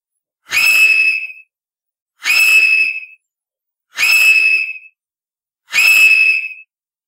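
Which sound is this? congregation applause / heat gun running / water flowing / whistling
whistling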